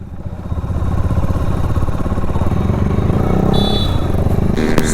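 A KTM Duke 250 motorcycle rides off on the road, its engine a loud, continuous throbbing rumble close by, holding steady with a slight rise and passing traffic noise in the background.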